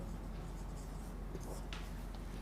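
Someone writes a word during a lesson, a continuous close scratching of pen strokes over a steady background hum, fairly quiet and with no talking.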